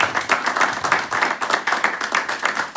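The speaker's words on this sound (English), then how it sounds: "If we could just give them a round of applause." An audience claps steadily for Zimbabwe football association guests and the national team head coach at a UK diaspora gathering, a dense, even round of applause at close range.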